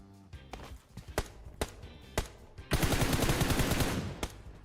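Gunfire in the video game PUBG Mobile, with several loud single shots followed by a dense, rapid automatic burst lasting over a second.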